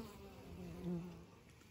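Honey bees buzz around a hive entrance where guard bees examine strangers, a faint steady drone with a slightly louder pass partway through, close and without voices.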